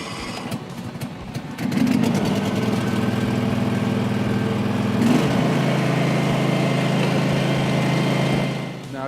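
A 4WD brush mower engine cranks, catches at about two seconds and then runs loudly and steadily, with a shift in its note about halfway through before settling into a continuous drone.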